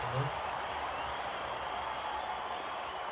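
Steady crowd applause and cheering from a cricket video game's IPL match between RCB and KKR, a dense, continuous wash of clapping that holds at an even level for the whole stretch.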